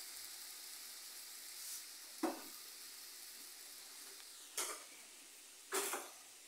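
Salsa in a frying pan gives a faint, steady sizzle, broken by a few brief louder bursts of spattering and stirring clatter.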